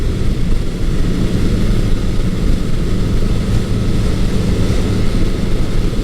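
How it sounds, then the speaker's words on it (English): A vintage motorcycle with a Mac exhaust, from a Kawasaki KZ1000 and Honda CB900 Custom comparison, drones steadily and loudly up close, a dense low engine rumble holding even throughout with no talk. "Sounds nice when you get on the throttle, but this Mac exhaust really does, once you have it in the higher gears, it quiets right down"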